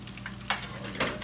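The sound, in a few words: fish tempura frying in oil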